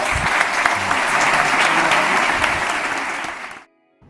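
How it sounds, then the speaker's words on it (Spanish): Audience at a Spanish-language health science and innovation forum applauds the panelists, a full, steady wash of clapping that holds for over three seconds, then cuts off into silence. "Un aplauso para ellos"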